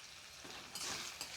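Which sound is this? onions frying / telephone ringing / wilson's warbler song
onions frying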